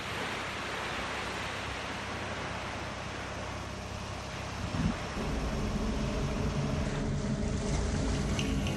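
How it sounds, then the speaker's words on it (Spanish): World War II landing craft heading for Pacific beaches, a continuous heavy engine drone mixed with rushing water and wind noise, steady throughout and growing slightly louder and fuller partway through. "las lanchas de desembarco que ponen rumbo a las playas"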